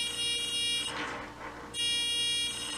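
A high electronic buzzer in a solar energy experiment sounds steadily, stops for under a second with some faint handling noise, then resumes just as loudly.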